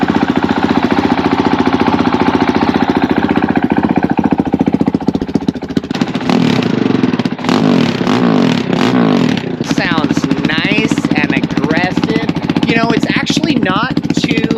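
A Honda CRF450RL dirt bike fitted with a full aftermarket exhaust starts up and runs, its rapid, buzzy idle pounding steadily before several sharp throttle blips and revs later on, loud and close.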